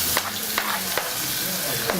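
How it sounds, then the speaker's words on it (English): Onions and garlic sauté in oil in a small pan, giving a loud, close sizzle with quick rhythmic stirring scrapes and taps, alone and without speech. "he is going to saute the onions and the garlic"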